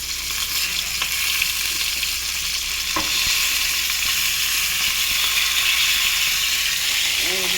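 Chopped onion, one large, sizzling in hot oil in a frying pan with cumin, in a pot where katla fish is also being fried, as a steady broadband hiss with a few faint clinks of a stirring utensil; no one talks.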